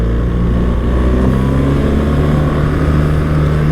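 A BMW R 1300 GS motorcycle engine roars loud and close without a break, its pitch rising and falling steadily as the rider revs it on a mountain ride, with no talking.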